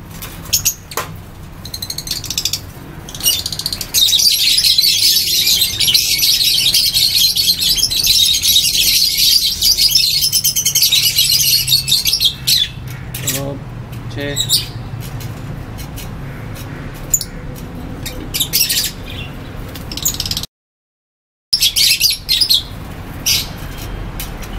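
A pair of black masked lovebirds being released into a cage chirp in busy, high-pitched bursts, loud and close, with rustling and a brief silent gap near the end.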